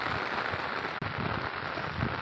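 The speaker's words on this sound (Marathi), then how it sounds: "पाऊस लय इकडे चालू" Steady rain pours outdoors on a cold day in a grazing area, a dense, continuous patter close by with no voices.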